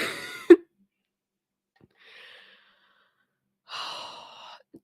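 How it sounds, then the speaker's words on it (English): A woman nearby gives a single sharp cough, followed by faint breathy throat sounds and a short exhale, quiet and otherwise silent. "do not be sorry you're coughing."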